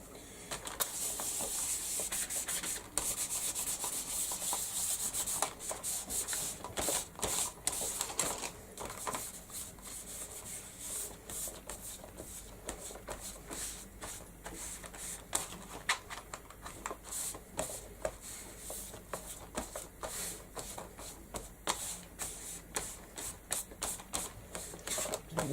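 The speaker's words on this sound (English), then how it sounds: "You know I like to put my gesso on with a baby wipe, or a wet wipe" Damp baby wipe rubbed over a card surface to spread gesso, a close, continuous dry scrubbing and scraping with quick irregular strokes, alone and without speech.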